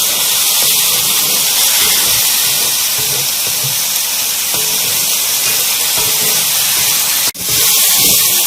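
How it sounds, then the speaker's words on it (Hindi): Tomato puree frying in a pan for chicken tikka masala, a loud steady sizzling hiss held throughout with a brief dip near the end. "टमाटर के साथ भी हमें इसे इतना भूनना है कि हमारे टमाटर का कच्चापन ख़त्म हो जाए"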